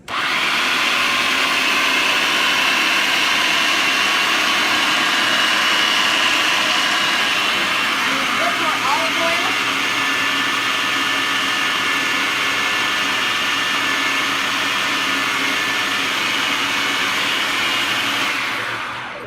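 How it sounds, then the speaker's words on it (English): A blender whirs loudly and continuously as it purees a small portion of edamame with a little olive oil, holding a steady close-up drone for nearly twenty seconds with a brief rattle partway through, then starting to wind down at the end. "I keep having to scrape the sides in order to get it blending up"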